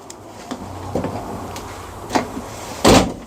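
A repaired door held by a single screw is swung open and shut, giving a few light clicks and knocks followed by a sharper closing thud near the end, close by in a quiet room at night.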